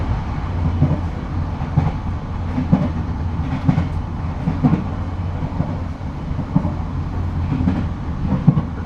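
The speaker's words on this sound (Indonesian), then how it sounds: "kereta api Sancaka Utara diberangkatkan dari stasiun Cepu" Sancaka Utara passenger train pulling out of Cepu station at night, a steady low rumble with rhythmic clickety-clack of wheels over rail joints, heard from onboard, continuous and moderately loud throughout.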